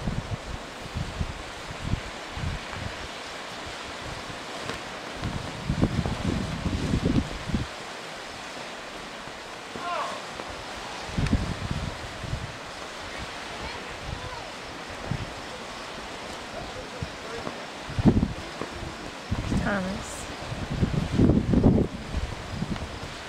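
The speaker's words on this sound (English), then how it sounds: "it's very, very windy" Strong wind buffets and rushes in uneven gusts, with low roaring bursts swelling and fading over a steady windy background.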